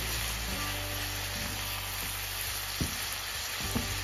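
Light soy sauce sizzles steadily in a hot pan with prawn and veggie glass noodles, a continuous close fry with a couple of brief clanks of stirring.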